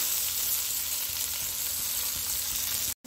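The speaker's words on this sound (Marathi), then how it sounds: "सिमला मिरची टाकायची, टोमॅटो टाकायचा. हे छान व्यवस्थित परतून" Capsicum and tomato sauté in a pan with a dense, constant sizzle, close and even throughout, cut off by a brief silence near the end.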